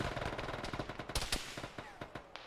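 Machine gun fire in the ShackTac Arma military game, rapid close bursts of sharp cracking shots in an uneven rhythm, with a couple of louder reports standing out.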